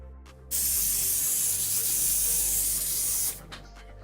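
Spray paint hisses onto a scale model in one loud, steady burst of nearly three seconds, with a low hum underneath and short quieter puffs before and after.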